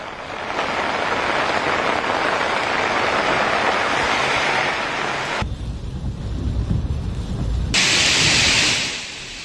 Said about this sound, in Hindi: और ये प्री मॉनसून बारिश है जो इस वक्त हम दिल्ली एनसीआर में देख रहे हैं